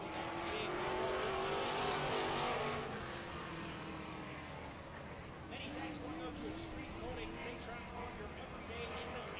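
Late model stock cars roar around a dirt oval during a 2014 feature race, with loud engines droning and revving as the pack passes and a commentator talking over them.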